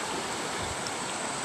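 A river swollen by recent flooding rushes steadily past, a constant broad wash of flowing water heard at a distance with no voices.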